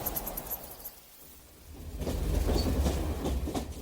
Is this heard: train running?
yes